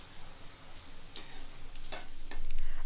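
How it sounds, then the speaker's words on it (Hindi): Sliced ginger and garlic frying in a pan for spinach paneer, a soft continuous sizzle with a few brief stirring scrapes, growing slightly louder toward the end. "लहसुन के साथ अदरक को भी भून लेते हैं"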